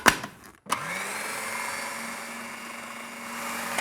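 A countertop blender whirring through kale pesto, starting with a brief clatter before spinning up to a loud, steady motor whine that holds to the end.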